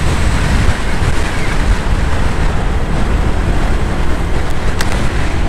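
Strong typhoon wind roars continuously and loudly around a rider near a ferry terminal in Macau during Typhoon Ma-on, a dense steady rush with no pauses, heard alone without talk.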